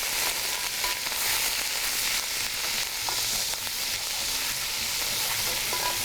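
Daleem frying in a pan, a steady, loud, dense sizzle and crackle that carries unbroken throughout, with faint stirring clinks underneath.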